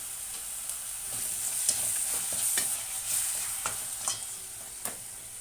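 Tomato puree frying in a pan for a mushroom and meal maker curry, a gentle steady sizzle with a high hiss and regular spatula scrapes and light taps, close and quiet, without speech.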